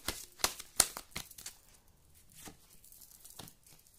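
Tarot cards being shuffled and drawn, heard as a run of crisp riffling snaps and paper flicks at the start, then softer card slides and taps, close and fairly quiet, with no talking.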